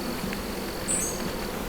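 A package of honeybees hums around a hive frame as a faint, steady high drone under a quiet background, with a brief louder whine passing near the middle.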